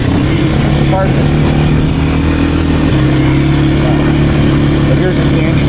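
A Kawasaki KLX230R dirt bike engine drones steadily and loudly through the whole stretch while being ridden, with a shift in pitch near the middle, and a rider talks over it.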